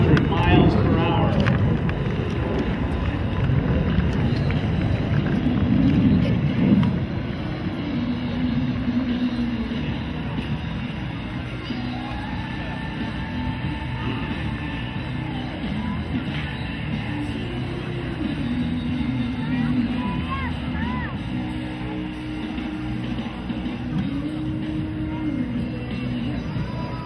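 F/A-18 Super Hornet jets flying past at the Miramar air show, a loud roaring rumble that swells early then settles into a sustained drone, with an announcer talking over it.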